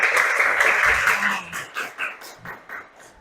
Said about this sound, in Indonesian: Kita tepuk tangan buat Anita dulu